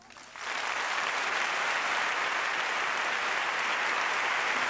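A large audience at a Semana Santa proclamation in Seville breaks into sustained applause, swelling quickly from a quieter start into a dense, even roar of clapping that continues without pause.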